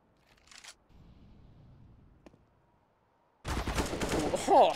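Counter-Strike gunfire from a professional esports match: a few quiet, scattered shots and clicks, then a loud, dense burst of rapid firing near the end. A commentator's voice runs underneath.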